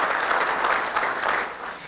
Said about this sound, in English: Let's have a big round of applause for our national anthem singer, the Luke Color Guard